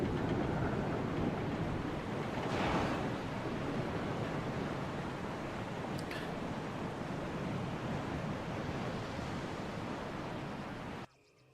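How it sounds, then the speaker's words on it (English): A steady, broad rush of distant waterfall noise fills a Resident Evil game scene, continuous and even throughout, with a brief faint clank partway through before it cuts off. "You can hear the sound of a waterfall in the distance."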